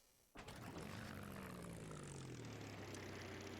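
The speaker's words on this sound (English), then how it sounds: "That is an airplane engine. That's an Allison V12." An Allison V12 aircraft engine with a huge supercharger, in BeamNG.Drive, roars in abruptly and holds a loud, steady droning howl with a slowly falling tone, alone without talk.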